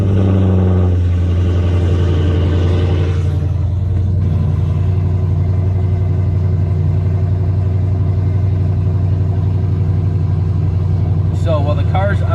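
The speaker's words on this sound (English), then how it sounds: "I'm going to turn the car on" A Dodge Charger 392 engine catches and settles into a loud, steady rumbling idle that holds throughout, with brief voices over it near the end.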